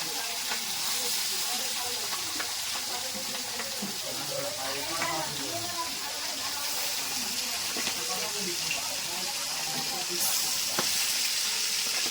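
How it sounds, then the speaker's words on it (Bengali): Fish coated with salt, turmeric and dried chilli frying slowly in hot oil, giving a steady bubbling sizzle with some clinks and faint background activity, close and continuous. "এবার মাছগুলো আস্তে আস্তে ভেজে নেবে"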